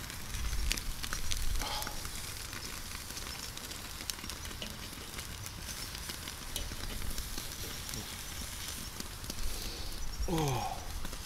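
A coffee-rubbed beef rib steak (côte de boeuf) sizzles steadily on hot coals, a dense crackling hiss with scattered pops throughout, and a brief scrape of handling near the end.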